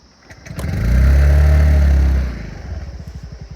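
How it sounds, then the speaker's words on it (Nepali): A Yamaha BS6 scooter engine revs up loudly to a sustained drone, then drops back to a rhythmic putter at idle, heard close by at a scenic waterfall spot. "BS6 मोडलको scooter"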